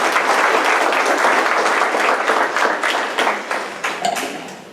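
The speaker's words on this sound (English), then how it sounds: "Now, let's give a round of applause to our panel members." Sustained applause from a meeting audience for panel members at a Florida corridor task force meeting, steady and dense before thinning toward the end.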